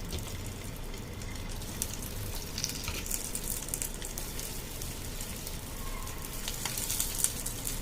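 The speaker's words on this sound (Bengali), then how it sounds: "ননস্টিক গরম হয়ে এসছে, এবার পাতুরিগুলো আমি সাজিয়ে দেবো।" Fish paturi parcels laid onto a hot nonstick pan give off a steady, fairly quiet sizzle and crackle, a constant hiss with scattered sharper pops and no voices.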